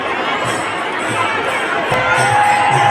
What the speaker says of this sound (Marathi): काल्यासाठी अशा प्रकारे गर्दी झाली आहे